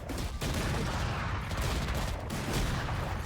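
Gunfire in the Valorant video game, a dense continuous fusillade of shots that stays loud and close across the whole stretch with no clear pauses, no speech.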